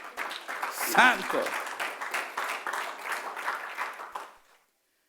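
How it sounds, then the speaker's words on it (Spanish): A church congregation bursts into applause that fades out after a few seconds, with a voice calling out over the clapping. "Dile un aplauso al Señor."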